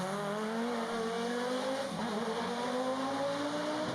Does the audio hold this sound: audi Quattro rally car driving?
yes